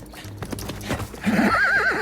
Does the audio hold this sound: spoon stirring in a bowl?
no